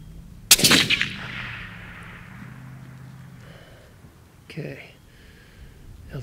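A single loud crack from a Savage Stealth Evolution rifle in 6.5 Creedmoor fires on a long-range shooting range, then rings out with a long fading echo, followed by a faint distant impact.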